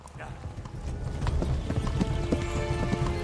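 Horse galloping in the medieval video game Kingdom Come: Deliverance, steady clip-clop hoofbeats running continuously with a brief whinny-like cry, under talk and mixed game sounds.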